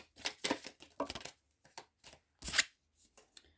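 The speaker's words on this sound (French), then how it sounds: "Je vais tirer une petite carte d'action pour vous." Oracle cards being shuffled and drawn from a deck, a series of crisp papery riffles and slaps in uneven bursts with short pauses between, close and clear with no talking.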